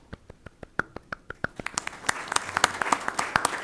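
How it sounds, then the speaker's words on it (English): Applause for all-state students at a virtual board of education meeting: a few separate, sparse claps quicken and thicken into brisk applause from a small group. "how about a virtual round of applause for our all-state students, directors, parents, family members, and administrators"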